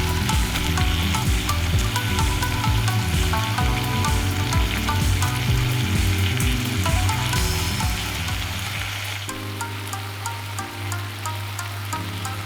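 Shredded cabbage fries in a pan with carrot and bacon, giving a continuous close sizzle and light crackle that sits beneath louder background music throughout.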